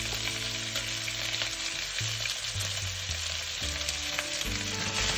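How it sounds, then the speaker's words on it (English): Onion, ginger and garlic stir-frying in a pan for a Korean kimchi stew, a loud, dense, steady sizzle with occasional stirring scrapes, close up, with no voices. "just give it a good stir and stir fry it until the onions are cooked and translucent"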